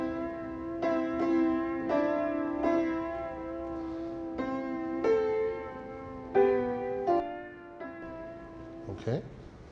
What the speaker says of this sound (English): if I play this one with the alto, it'll sound like this